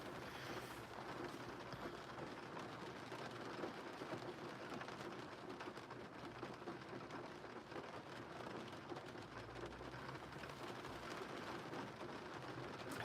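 Rain falls outside a building near a parking area, a steady, even wash of soft hiss that stays faint and unbroken throughout, with no voices.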